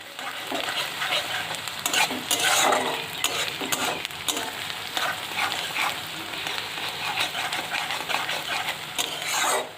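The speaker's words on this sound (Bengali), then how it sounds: "তো আমি সবগুলো তেলে সুন্দরভাবে লাল করে একটু ভেজে নেব" Garlic, bay leaf, cardamom, dried chili and onion fry in oil for a village-style jujube pickle, a continuous sizzle broken by scraping stirs and occasional sharp clinks of the spoon against the pan.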